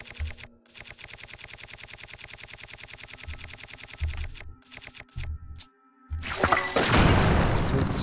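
Rocks blocking a path are destroyed in the video game Zelda: Tears of the Kingdom. Rapid rhythmic mechanical pulsing gives way to a loud, noisy crumbling burst near the end.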